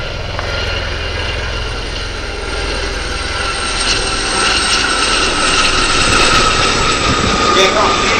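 Westland Gazelle helicopters flying at the Shuttleworth airshow: a loud, steady rotor and turbine roar that swells slightly toward the end, heard outdoors with a commentator talking over it.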